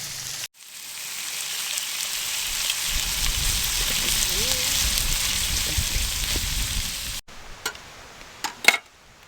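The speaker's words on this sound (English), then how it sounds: "I'm cooking shrimp pasta." Shrimp pasta sizzling in a pan, a steady broadband frying hiss that runs for several seconds before cutting off, followed by a few sharp clicks and clatters.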